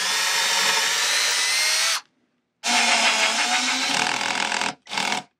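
Power drill bores a hole in a wooden overlay drawer front, whirring loud and close in a two-second run, then a longer burst with the pitch dropping under load, then a brief final spin.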